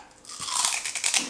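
Close, loud crunching of airy, brittle pork rinds being bitten and chewed, a few crisp crackling bites in quick succession.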